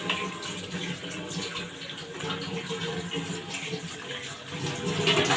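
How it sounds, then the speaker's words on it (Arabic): Water runs and pours into a cooking pan on the stove, a steady close splashing gush that swells slightly toward the end, heard without talk. "خلاص كده حطيت المية"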